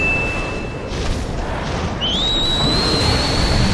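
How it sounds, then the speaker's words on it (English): A whistled command in the video game Ninja Gaiden 2: a thin, steady high-pitched whistle that breaks off, then a second whistle that rises and holds, over a constant low rumble. "I love how whistling has become the norm for any and every command"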